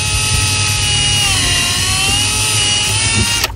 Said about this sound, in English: And just drill nice and slow, just to be careful.